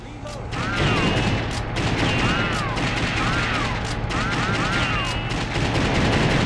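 Rapid gunshots from the light-gun arcade shooter Virtua Cop 2, a dense, loud, continuous barrage of bursts over a steady game background with chirping electronic tones, and no talking.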